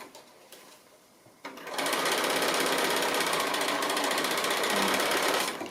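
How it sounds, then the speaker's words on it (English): A sewing machine runs in a fast, even, continuous stitching burst while top stitching a quilted fabric face mask, close and steady after some quiet handling noise at the start. "stitch right along that line there"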